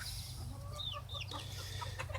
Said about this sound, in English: Yeah, he's a rooster.